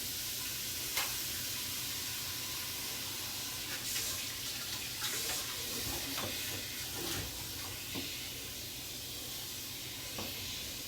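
A kitchen tap runs cold water steadily into a sink to thaw a turkey, a continuous hiss and splash broken by small clinks and sloshes.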